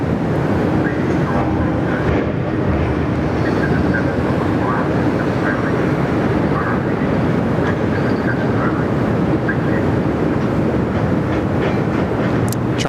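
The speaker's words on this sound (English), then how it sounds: "Here comes one of the most sporty-looking 787s around." A China Southern Boeing 787 arriving from Guangzhou at Sydney Airport gives a loud, steady jet roar that fills the whole stretch without letting up, with voices faintly underneath.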